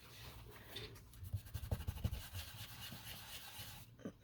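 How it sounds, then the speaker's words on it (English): Scratchy rubbing of a paper napkin over a journal page to wipe off excess brown paint, a run of quick back-and-forth strokes building in the middle, close and fairly quiet. "I know I need to rub it off. Let me get another napkin."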